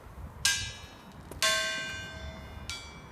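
A bell is struck three times, each ring clear and bright, then slowly fading away, with a short pause between strikes.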